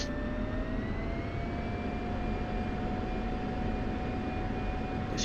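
An F-16's jet engine roars steadily during takeoff in the DCS flight simulator, a dense, loud, continuous whine and rumble with rising tonal pitch, without speech.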